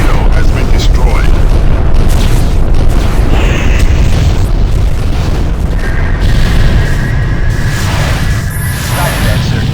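Warship explosions in the space combat game Freespace 2 make loud, continuous rumbling booms beneath a radio voice and other game sounds.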